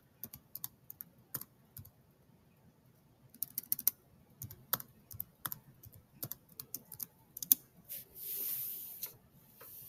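Keys on a computer keyboard are tapped to enter an access code, in sparse irregular clicks and short bursts, close and quiet, followed by a brief soft whoosh at the end.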